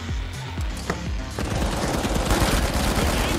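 Rapid automatic gunfire in the first-person shooter THE FINALS, with dense, loud, continuous bursts of shots layered over each other and a few sharper single cracks near the start.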